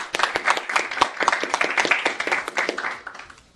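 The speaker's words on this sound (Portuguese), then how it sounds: "Peço uma salva de palmas, então." Clapping at a board of trustees meeting, a fairly small group giving crisp, closely miked handclaps in quick irregular succession that taper off near the end.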